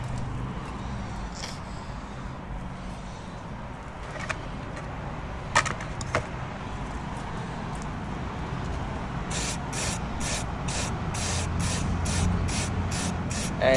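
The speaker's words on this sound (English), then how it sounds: "Get your spray nozzle and spray it, the living crap out of it." CRC mass airflow sensor cleaner sprays onto the MAF sensor of a 2012 Hyundai i30 CRDI: after a hushed ambient stretch, a run of about eight short, sharp hissing bursts comes in quick rhythm near the end.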